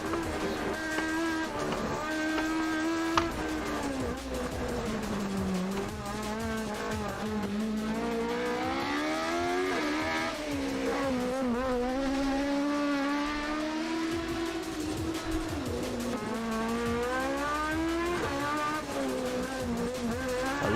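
A Toyota AE86 Trueno engine revs hard toward 11,000 RPM, giving a loud, continuous high-pitched wail that rises and dips in pitch as the throttle is worked, with no talking.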